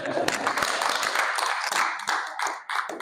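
People clap their hands together, a brisk run of close, uneven claps that continues steadily throughout with a voice mixed in.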